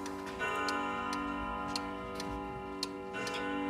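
An Odo pendulum clock ticks steadily, its sharp regular beats ringing close and clear over a sustained metallic hum with no talking.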